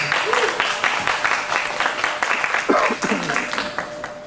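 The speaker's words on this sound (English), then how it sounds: "Yeah, you go ahead and give them a round of applause." Applause from the audience at a county fair meat goat show, a steady spread of clapping with some voices mixed in, moderately loud throughout.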